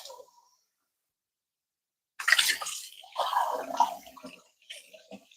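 Water runs as a cup is washed under a kitchen tap after coffee making, a splashing broadband wash that starts abruptly after a quiet stretch and continues unevenly for a few seconds, close and fairly loud.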